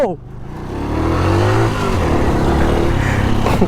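An old motorcycle revs on a rough off-road track, its mid-pitched engine climbing and holding a steady loud drone close by, with a voice talking over it.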